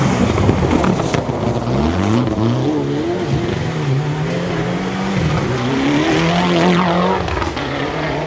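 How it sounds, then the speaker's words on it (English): John Kemp's Mitsubishi Evo rally car races flat out along a stage of the 2012 STPR Rally, its engine loud and close with rising and falling revs, gear changes and gravelly tyre noise. "John Kemp, Mitsubishi Evo here."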